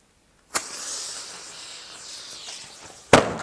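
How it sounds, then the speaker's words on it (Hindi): A chain of burning matchsticks sets off a rocket firecracker: a sharp pop, then a sustained fizzing hiss for about two and a half seconds, ending in a second loud crack. "तो ये उड़ा है"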